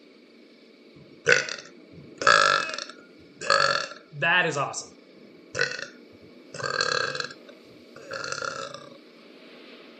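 Seven loud, drawn-out burps in a row, each a second or less, spaced about a second apart, from a person playing The Oregon Trail video game, with a brief spoken remark among them.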